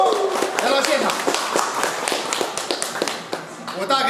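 An audience at a powerlifting meet breaks into steady applause, dense overlapping clapping mixed with crowd voices that keeps going for a few seconds.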